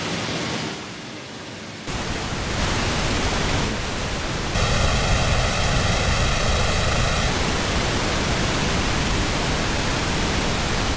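A soloed drum reverb return from a mixing session, heard alone as a dense, wide, steady wash of noisy diffuse reverb tail with no talking, swelling slightly louder partway through.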